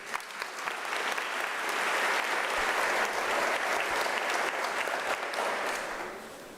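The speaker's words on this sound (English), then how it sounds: "You deserve a round of applause." Graduation ceremony audience at UNISA applauding in a full, steady burst that swells quickly, holds for several seconds and then fades slightly at the end, with no talking over it.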